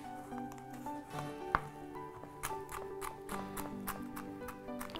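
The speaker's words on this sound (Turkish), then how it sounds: "İçine birazcık böyle ceviz doğrayacağım." A knife chops walnuts on a kitchen board while Ramazan kebab is being made, giving a run of light, irregular taps and knocks, one sharper and louder, over a quiet room.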